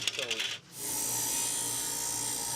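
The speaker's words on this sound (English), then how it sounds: "Just take a scraper and scrape this." A hand scraper works an original mount or trim piece from a rusted Chevrolet Chevelle under restoration. A few quick rubbing strokes lead into a steady, close scraping rasp.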